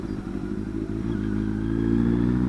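Yamaha XS650 motorcycle engine running steadily close by as it slows, a low throbbing exhaust note with faint clatter and no popping, alone without talk.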